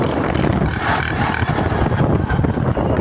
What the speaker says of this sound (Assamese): গাড়ীৰ মাত চাওঁ